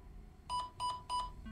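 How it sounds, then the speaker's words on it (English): Three evenly spaced electronic beeps sound in a space survival video game, each short and clear over a quiet, low ambient hum. "What's beeping?"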